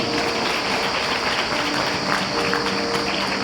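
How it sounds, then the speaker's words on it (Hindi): A church congregation at a Sunday meeting clapping loudly, a steady dense wash of applause continuing throughout without a break. "जोर से तालियां बजाएं परमेश्वर के लिए"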